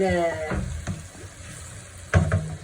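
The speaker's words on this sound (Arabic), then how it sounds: "واش ندير طوماطيش نقليها مليح هكا مع البصل" Tomatoes frying with onion in a little oil: a low, steady sizzle punctuated by a few utensil knocks and scrapes, close by, with a voice briefly speaking at the start.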